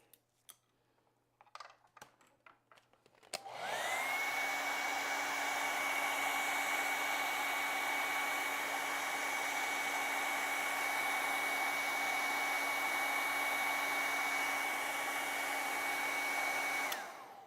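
After some light tapping and handling clicks, a hair dryer switches on and blows steadily and loudly over an acrylic painting for about thirteen seconds with a constant whining hum, then cuts off.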